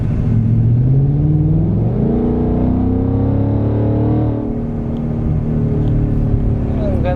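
A Ford Mustang GT 5.0 S650 accelerates on a paved road. Its engine note climbs steadily and stays loud and close while people talk inside the car.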